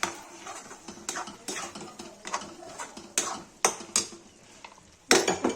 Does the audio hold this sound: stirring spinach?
yes